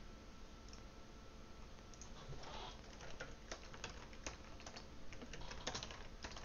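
Rapid, faint clicking of keys on a computer keyboard, continuous irregular keystrokes that pick up slightly toward the end, with no voices.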